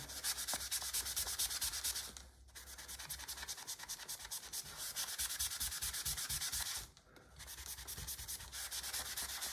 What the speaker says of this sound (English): we're just going to rub it over these paint areas